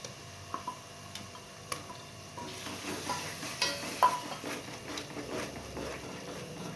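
Thick masala paste for Kolhapuri misal is stirred and sautéed in a pan over a low flame, giving soft scraping and faint steady sizzling with scattered spoon taps, close and fairly quiet throughout.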